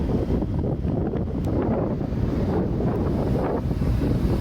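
Strong wind buffets the microphone outdoors, a loud, steady rumbling roar with gusting surges and no voices.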